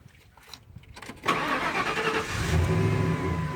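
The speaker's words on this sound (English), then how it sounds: "We're going to start the vehicle" A car engine with white exhaust smoke from a head gasket fault cranks briefly and then catches, settling into a steady idle, close and fairly loud.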